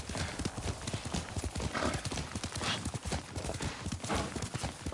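A horse, Yuriko's mount that has run off without her, clip-clops with a dense, steady beat of hooves, and a whinnying neigh rises partway through, all fairly close and loud.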